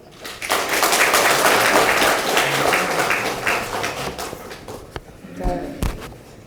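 Audience applause at a Justice Party leadership inauguration ceremony, a crowd clapping steadily for several seconds before thinning into scattered claps, thumps and a voice near the end.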